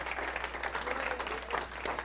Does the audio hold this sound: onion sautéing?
no